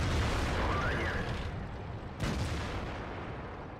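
A tank cannon fires in a World of Tanks-style video game, a loud booming blast with a rumbling tail, followed by a second sharp report about two seconds later.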